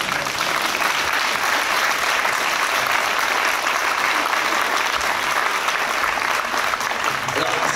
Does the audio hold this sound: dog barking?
no